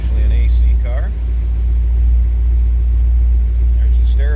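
A 1971 Chevrolet Chevelle SS Tribute engine idles with a deep, steady low rumble throughout, loud and close, while a person talks briefly over it.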